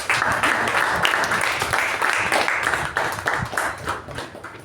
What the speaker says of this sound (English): we will give it round of applause